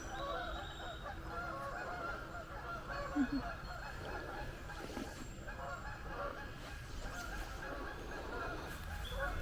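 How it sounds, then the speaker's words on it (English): Geese honk repeatedly in the distance near a cemetery by a river in Harlan, Kentucky, their calls faint and scattered over a low background rumble. "listen, at the geese"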